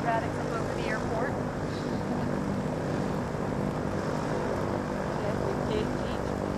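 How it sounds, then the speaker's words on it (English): A T-6 propeller airplane makes a low pass, its engine drone steady and loud for the whole stretch, with a voice heard faintly under the noise. "Sometimes he'll stay in the pattern and come by and do a low pass."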